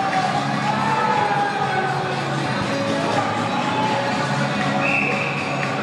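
Hockey crowd at a championship game rising to its feet, loud sustained cheering and whooping that fills the arena, with a few higher shouts and whistles cutting through near the end.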